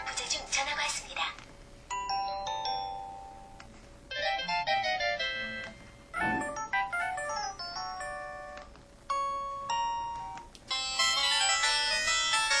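Polyphonic ringtone melody from an IM-7400 mobile phone, bright chiming notes in repeating phrases with brief pauses, loud and close, playing alone.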